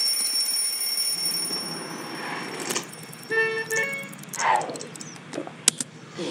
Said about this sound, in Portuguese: Vai-te ligar o despertador.